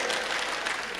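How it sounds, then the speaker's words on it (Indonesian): Audience clapping at a school seminar, a brief steady burst of many hands, moderately loud and filling the whole moment. "Tepuk tangan untuk kita semua"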